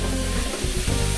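Burger meat sizzles in a pan while being stirred, a close, dense frying hiss with brief scraping, steady and loud for about a second, with no voices.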